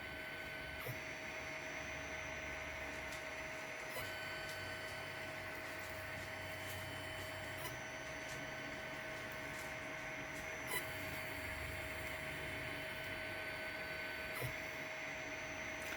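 A VEVOR laser engraver runs in a crafting room, giving a steady whirring drone with a constant tonal whine and faint periodic ticks as the head moves, with no voices.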